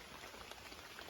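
Faint, steady rain falls in a tropical forest where orangutans live, a soft, even hiss of drops pattering on the leaves all around with no voices.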